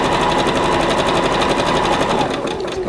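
A sewing machine runs fast and loud as it stitches fold over elastic, making a steady, evenly pulsed rattle up close that slows slightly near the end.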